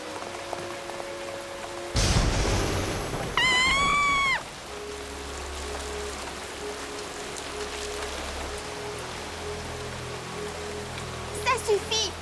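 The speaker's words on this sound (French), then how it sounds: "Il pleut de plus en plus fort, Apple Bloom." Heavy rain pours steadily in a cartoon storm, a constant hiss with a sharp thunder crack near the start, while other effects briefly cut in and out over the downpour.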